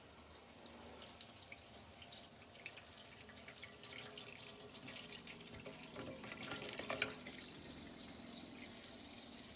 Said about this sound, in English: you go around all your fixtures and you turn them on, and you run it until pink water comes through